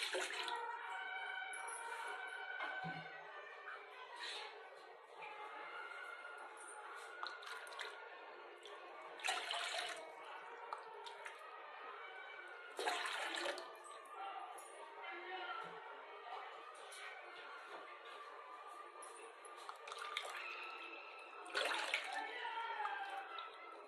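Repeated bursts of water pouring and splashing into a pan, six glassfuls for cooking jowar flour, several separate pours with gurgling between them, close up, with faint talking underneath.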